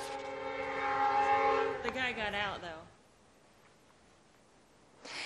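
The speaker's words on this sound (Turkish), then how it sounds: "tren büyük bir hızla kamyona çarptı" A train sounds its horn in a loud, sustained blast just before striking a truck, the tone bending and then breaking off into a low, quieter rumble before a sharp noise at the end.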